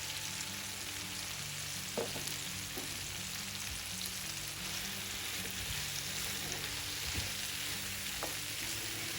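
Capsicum (shimla mirch) pieces fry with softened tomatoes in a pan, giving a soft, continuous sizzle with a few faint clicks of a spoon against the pan, quiet and without talk.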